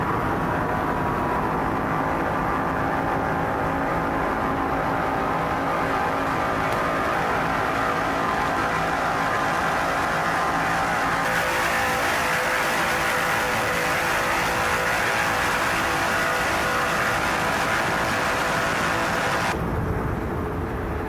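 Racing powerboat engines roar steadily from an onboard position aboard the offshore boat Shooters Waterfront Cafe during an open-class race, a loud continuous drone with a brief shift in tone partway and a sudden drop near the end.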